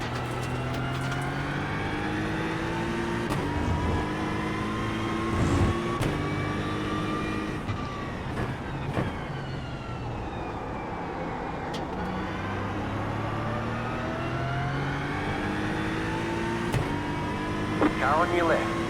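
Race car engines in the Daytona 24 sim racing game drone steadily, with pitch sweeping up and down through gear changes as other cars pass close by throughout, under occasional talk.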